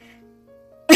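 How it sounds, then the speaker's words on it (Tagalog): A single sharp, explosive cough bursts out from a mother near the end, following a quiet stretch of low humming tones. "Narito na naman ang ubo ko."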